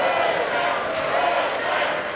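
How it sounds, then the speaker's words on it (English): A wrestling event crowd roars in a sustained, loud wash of cheering and shouting that fills the arena without letup. "This crowd is clearly behind him."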